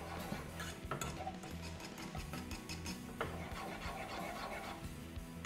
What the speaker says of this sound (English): as the chocolate is melting and meeting the rest of the stuff, it's getting a little clumpy, and we want it to be nice and smooth. So definitely whisk it.